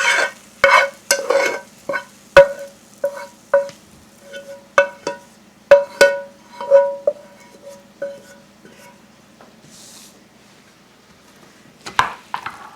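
White rice and vegetables stirred together in a pan, with a series of close, rhythmic spoon scrapes and clinks against metal, slowing and fading toward the end.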